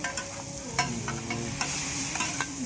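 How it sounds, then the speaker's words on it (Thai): Pad thai stir-fried nonstop at a market stall, a dense steady sizzle with quick rhythmic scrapes and clanks of a spatula against the pan, close and loud, no talk. "ผัดแบบไม่ได้หยุดเลยครับเพราะว่าลูกค้ามาแบบต่อเนื่องต่อเนื่องเลยนะครับ"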